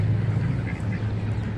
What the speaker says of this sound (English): Here we are, feeding the ducks.